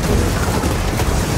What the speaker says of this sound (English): Rocket's coming in!